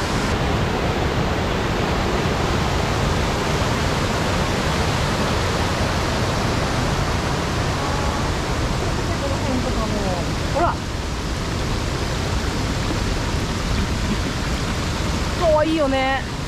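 A heavy, full-flowing waterfall at the Akame Forty-Eight Waterfalls gorge roars steadily and close by, a dense, unbroken wash of rushing water that fills the whole stretch without pause.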